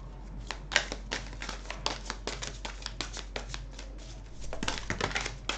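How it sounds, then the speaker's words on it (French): Fairy oracle cards are shuffled and drawn by hand, giving a quiet, close series of crisp flicks and snaps in an irregular rhythm, with a faster burst toward the end. "je vais tirer quelques cartes"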